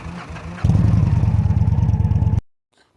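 A motorcycle engine idles briefly, then chugs steadily at low revs with a rhythmic pulsing putter for about two seconds before cutting off abruptly.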